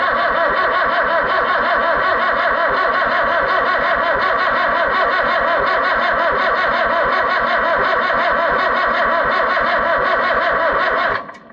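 Oliver 1365 tractor engine cranking over on brake clean without firing, a steady rhythmic churn of the starter that runs loud and close for about eleven seconds, then cuts off abruptly at the end.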